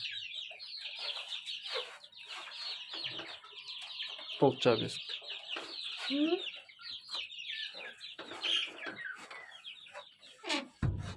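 Chickens and young chicks cluck and peep in a new backyard coop, a busy overlapping chorus of short calls close by, with a person speaking briefly and a door sound near the end.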